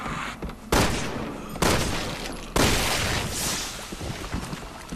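Gunfire in the video game Resident Evil 6, several loud sharp blasts followed by a sustained roar of shots and booms, up close.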